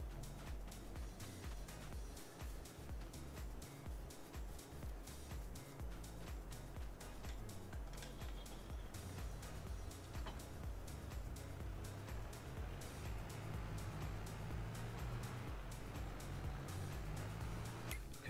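Steady engine drone from a Landini tractor in the video game Farming Simulator 22, a continuous low rumble at even loudness with no talking.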